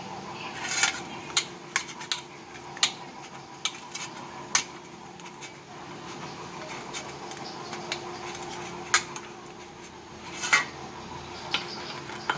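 A pizza plate is greased with a couple of drops of refined oil, giving soft rubbing and scattered sharp metallic clinks and taps against the plate, irregular and close over quiet room tone.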